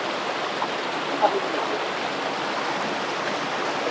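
Fast-flowing river water rushes steadily nearby in the upper Langat river area, a dense, even roar of broadband noise with no breaks.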